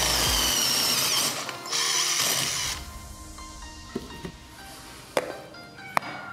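Drill boring a hole in a glass cup at low speed, a steady grinding whir that drops off after a few seconds, followed by scattered clicks and light knocks.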